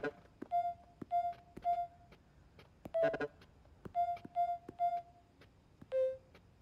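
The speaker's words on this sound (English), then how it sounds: "Keys play different notes." Keypad keys in Spider-Man 2 each sound a distinct musical tone, a string of short clear beeps at slightly different pitches pressed one after another at an uneven pace, with a brief noisy burst midway and no talking.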